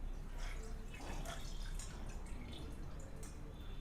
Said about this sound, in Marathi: या रोळीमध्ये हे सगळे गहू छान निथळून घेते.